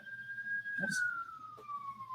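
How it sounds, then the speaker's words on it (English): A single siren wails in the distance, its long tone sliding slowly downward, faint but clear, with a brief low voice partway through. "Sorry for the sirens."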